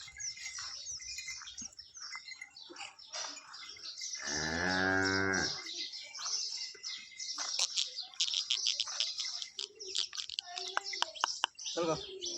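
A freshly calved Holstein Friesian (HF) cow gives one long, loud moo midway through, while birds chirp and tweet around it outdoors.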